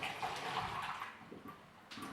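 Water poured into a blender jar for a smoothie, a steady close splashing pour lasting about two seconds with no talk over it.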